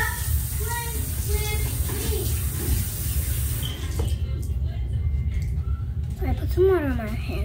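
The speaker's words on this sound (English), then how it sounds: "So now I'm gonna put some water on my face" Water splashes and hisses while being splashed onto a face at home, a soft running spray heard mostly in the first half, with a young voice talking over and after it.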